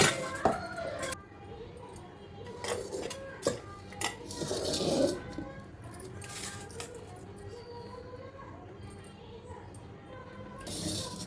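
Metal utensils clatter and clink against dishes as cooked jowar dough is transferred into a bowl in a home kitchen, with a run of scattered, uneven knocks at close range.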